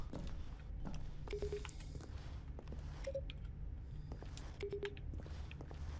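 A few short electronic button-press beeps from the video game The Stanley Parable sound one after another over a steady low background hum, with faint clicks between them.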